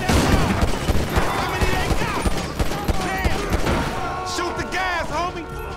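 Rapid bursts of video-game gunfire fired at a trail of gas, loud and continuous across the clip, with crashing impacts and a burning whoosh toward the end, mixed with game sound effects.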